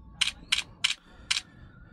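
Four quick camera shutter clicks from an Oppo Reno 12 Pro phone with a Sony IMX890 sensor, crisp and close, spaced about a third of a second apart over faint room noise.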